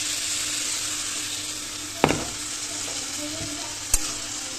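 Soaked mung dal and drained Gobindobhog rice sizzling softly in a pan as khichuri is being made, with gentle scraping stirs and two brief knocks of the spoon against the pan over a steady low fry.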